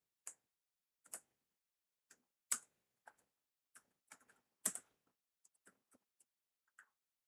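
Someone typing on a computer keyboard in a quiet room, scattered irregular keystrokes with pauses between short bursts, close and clear with no talking.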